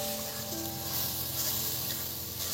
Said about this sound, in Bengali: এবার একটু নাড়তে থাকবো।